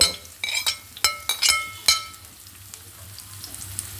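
Onions frying in a pan with a soft sizzle underneath, broken by a quick run of bright metallic clinks and scrapes from stirring in the first two seconds, then quieter frying alone.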